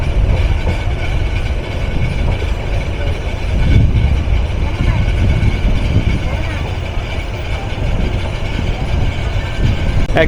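Onboard the Kurigram Express intercity train crossing the 4.8 km dual gauge double line Jamuna railway bridge in Bangladesh in the late afternoon, a loud, steady rumble of wheels and rattling carriages runs throughout with a faint clickety-clack.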